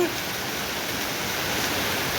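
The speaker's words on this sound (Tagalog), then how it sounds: "Ang lakas ng ulan, guys." Heavy rain pours down in a steady, dense broadband wash that stays loud and unbroken throughout, with no talking over it.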